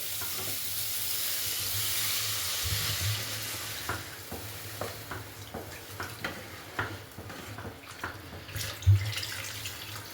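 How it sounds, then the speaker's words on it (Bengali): Water added to fried spice paste in oil for a Bengali pabda fish curry with potatoes and lentil dumplings: a loud hiss and sizzle at first, settling into a steady simmer with a series of light spoon taps and stirs. "মশলাটা কষানো হয়ে গেছে তেল ছেড়ে দিয়েছে এর মধ্যে এবার আমি জল দিয়ে দেবো"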